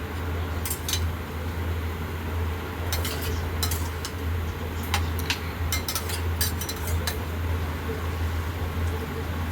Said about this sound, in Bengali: এবার নেড়ে আমি আবার একটু ঢেকে দেব।